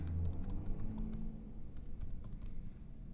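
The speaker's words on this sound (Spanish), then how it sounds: "digitamos la contraseña" A password being typed on a computer keyboard, a run of light, quick key clicks over a low background hum, close and fairly soft, with no talking.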